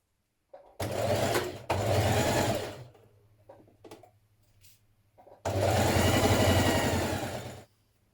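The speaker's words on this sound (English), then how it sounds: "Stitch your skirt front to your skirt back at the side" A sewing machine stitches a summer dress's side seam, joining skirt front to back, in two loud steady runs separated by quieter pauses with small clicks and handling noises.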